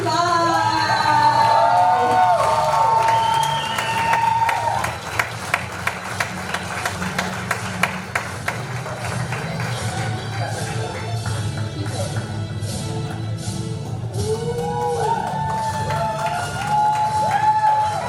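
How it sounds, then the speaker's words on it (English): A summit audience claps and cheers, with a sustained crowd roar of applause, whoops and shouts that swells and holds, sharp individual claps standing out midway, and excited voices rising again near the end. "keep clapping."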